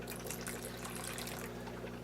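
Tap water runs steadily over earthworms being rinsed in a sink, a continuous close splashing flow with no voices.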